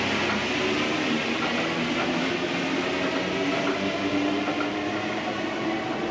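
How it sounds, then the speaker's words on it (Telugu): A steady, loud rumbling roar of a Paris Metro Line 6 train arriving through an underground tunnel at a busy station, continuous throughout with no voices. "చూడండి, మెట్రో వస్తుంది, metro number 6 under ground tunnel దగ్గర నిలబడి తీస్తున్నాను ఈ వీడియో"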